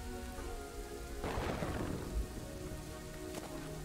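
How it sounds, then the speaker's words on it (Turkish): Lightning strikes and a thunderstorm in the village-building video game Kingdoms and Castles, with steady rain hiss throughout and a deep rumbling thunder crash rising midway, then fading back under the rain. "Valla şuralara bir yerlere çarpıyor yıldırım."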